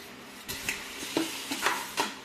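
Hotdog and ground meat frying and being stirred in butter in a pan, with a soft sizzle under several scraping stirs of a utensil against the pan, close and fairly quiet.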